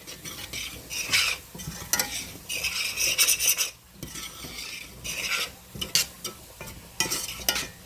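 A spoon stirs high-protein clam chowder in a pot, making continuous scraping, swishing and clinking against the metal, with a soft simmer beneath and no voices.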